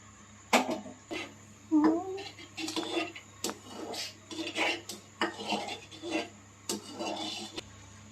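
A spoon scrapes and clinks repeatedly against a pan while stirring a thickening jaggery paasham mixture with milk, in irregular scraping strokes close by, with a low steady hum underneath.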